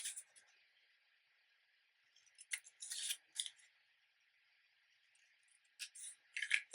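Scissors snip paper card to miter the box tops of an A2 card box: several crisp, close clusters of short cuts separated by near silence.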